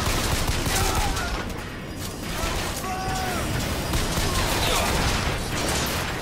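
Rocket fire and blasts in the video game Bioshock Infinite, a dense, continuous barrage of loud bursts and booms with mechanical noise under it, sustained throughout without letup.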